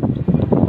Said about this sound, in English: Even it's a little bit windy